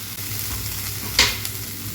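Frozen spring onion is stirred into a hot frying pan, giving a steady sizzle with a sharp scrape of the utensil partway through, close and alone.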